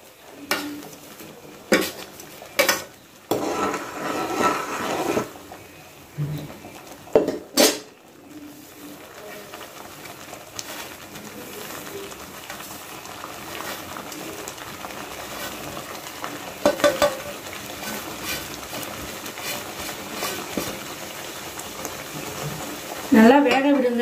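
Semolina being stirred into boiling water in a pan for pineapple kesari, with scraping and clinking of a spoon against the pan in irregular bursts over a steady bubbling, close up, with a voice speaking at times.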